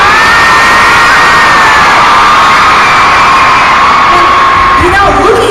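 Concert crowd at a show in Portland, Oregon, roaring with sustained whoops, yells and cheering throughout, loud and dense, with a few nearer shouts standing out.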